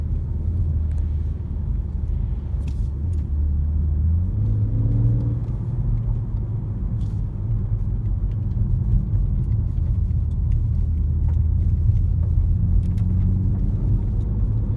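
A BMW M140i Shadow Edition hot hatchback drives along, its engine a steady, loud low rumble with a couple of gentle rises in pitch as it pulls, heard alone without talk.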